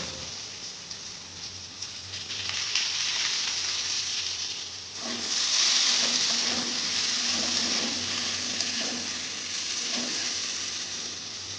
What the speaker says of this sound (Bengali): দিয়ে নুন হলুদ দিয়ে ভালো করে আলুগুলো ভেজে নেব।